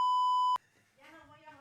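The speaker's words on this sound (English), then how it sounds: "What were those beeps, bro?" A single steady electronic beep sounds loud and pure for about half a second, then cuts off abruptly, followed by a voice talking.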